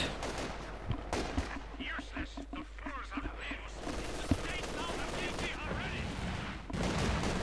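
Machine gun fire from an MG42 in the World War II strategy game Company of Heroes 2, heard as rapid bursts and scattered shots mixed with other battle noise, under a continuous voice talking over the action.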